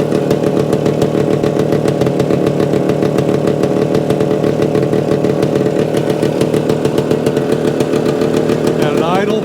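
A Suzuki TS-250 motorcycle, under stator and electrical repair, runs a little above idle. Its steady, loud, close two-stroke drone continues unbroken, and a voice can be heard faintly beneath it.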